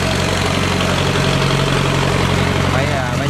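A huge engine drives a barge-type boat carrying goods between fields on a river, a loud steady low drone rumbling throughout.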